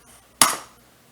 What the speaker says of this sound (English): I'm going to go ahead and break my eggs